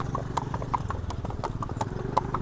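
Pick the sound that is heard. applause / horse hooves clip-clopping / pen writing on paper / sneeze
horse hooves clip-clopping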